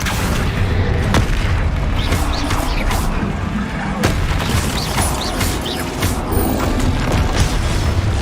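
Bombarda explosion spell cast in Hogwarts Legacy during a busy magical duel, heavy booming blasts and mechanical clatter running continuously over dense game noise, with loud thumping bursts throughout.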